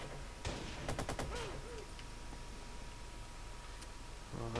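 Pistol gunfire in the Watch Dogs video game, a brief quick burst of several sharp shots near the start followed by low background game ambience, with no talking.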